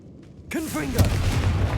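Confringo fire spell blast in the Hogwarts Legacy video game, a sudden booming burst with a whooshing, descending swirl that rolls into a sustained rumble, loud and close.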